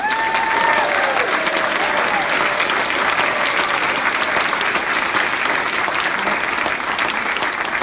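A town hall audience gives loud, sustained applause for newly elected Congressman Sean Casten, a dense roar of clapping with a few faint voices and a brief whistle near the start.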